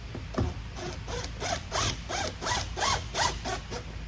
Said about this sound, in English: I let the screw suck in just a little bit till the vinyl starts to dimple into the cushion